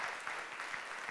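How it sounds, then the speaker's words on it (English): Audience applause honours the Grand Traverse Watershed Center at a Picnic at the Opera show, a steady wash of many hands clapping close and fairly loud, lasting the whole moment. "Let's just give the Grand Traverse Watershed Center a big round of applause for that"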